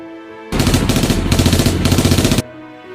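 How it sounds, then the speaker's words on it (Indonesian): A loud, sustained burst of rapid automatic gunfire lasting about two seconds, with steady rhythmic shots, then an abrupt stop, amid wartime gun and mortar fire. "Tembakan senjata dan mortir dihadapi oleh pasukan Australia."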